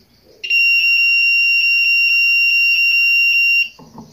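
A multimeter's continuity buzzer sounds on the feedback pins of a phone-charger transformer, one loud unbroken high-pitched tone of about three seconds that starts abruptly and stops sharply, with a brief voice after.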